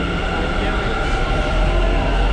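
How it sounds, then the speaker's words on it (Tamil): A train rolls past in Bangalore, a loud, steady rumble and rushing roar that holds level and close throughout, dense low-end noise with a continuous hiss on top. "அப்படியே போயிடுச்சு நம்ம ட்ரெயின்"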